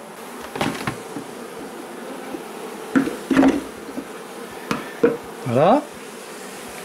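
Honeybees buzz around an artificial swarm hive as a queen is introduced, several insects droning close past in rising and falling passes, with soft thuds of handling and a brief spoken word.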